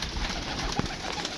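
Pigeons coo softly at a feeding tray crowded with birds, one low coo standing out briefly against a steady background hum.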